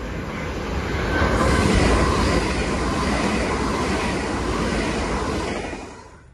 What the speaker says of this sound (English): Right, we're going to have a passing Great Western Railway IET.